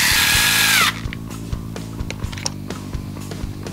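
A compact cordless power driver whines briefly and loudly as it tightens screws on a TLR 8IGHT-X E 1:8 electric buggy chassis, then stops, followed by light clicks and small metallic handling taps.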